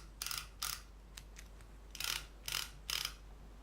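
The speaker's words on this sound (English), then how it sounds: "Over here we have the screwdriver, ratcheting screwdriver" A ratcheting screwdriver from a hand tool kit ticking in short bursts: several quick ratchet clicks in groups, close and fairly quiet, with small gaps between turns.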